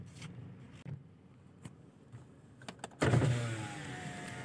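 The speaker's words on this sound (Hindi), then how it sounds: "अभी गाड़ी निकाली है बाहर एक छोटे से काम के लिए, सुबह सुबह निकलना पड़ा है" A car pulled out early in the morning for a short errand: quiet, sparse clicks and knocks, then an engine catches and settles into a steady low hum with a closer, louder rumble for the rest of the clip.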